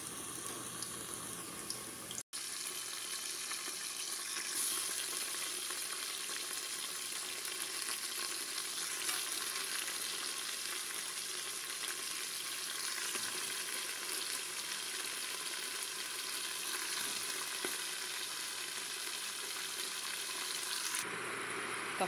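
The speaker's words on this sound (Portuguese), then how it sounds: "Tá fritando." Steady, dense sizzling and crackling of chicken frying in hot oil with pequi, continuous and close for the whole stretch, with no talking.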